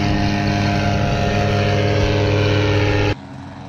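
A paramotor engine runs at full throttle during first-flight training, a loud, steady, close drone holding constant before cutting off abruptly near the end.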